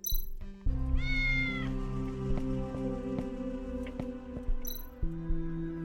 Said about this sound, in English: Meow. This little guy wants to play with me.